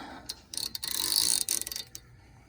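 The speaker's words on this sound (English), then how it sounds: "We're going to unloosen this right here." A Torx T30 bit on a ratchet loosens a front brake rotor screw on a 2007 Audi A8L D3, making a burst of close, rapid metallic ratchet clicks that lasts about a second and a half, then a few isolated clicks.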